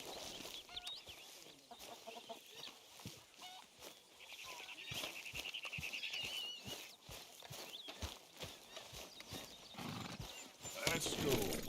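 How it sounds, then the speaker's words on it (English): Horse hooves clip-clop in a steady, close rhythm in the Red Dead Redemption 2 video game, with a neigh and clucking chickens nearby while characters talk over the scene. "Get that horse out of here."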